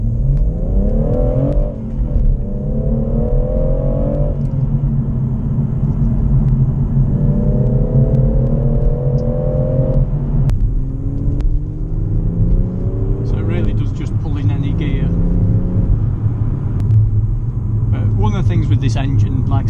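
A 2018 BMW M140i engine roars through repeated gear changes, revving up hard in rising sweeps, loud and close, with a few sharp clicks near the end.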